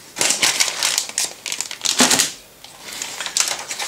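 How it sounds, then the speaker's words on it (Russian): Cardboard box of a 1:35 scale model kit of US infantry in gas masks (1918) being handled, with crisp crinkling and rustling bursts that fade into quieter scraping. "Давайте уберем коробку."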